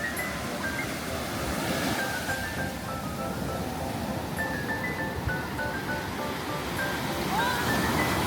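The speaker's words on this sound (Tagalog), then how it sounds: "Grabe, lakas ng alon" Strong ocean surf at a beach in La Union rushes and crashes continuously in a broad, steady wash, with faint distant voices and thin high tones scattered over the roar.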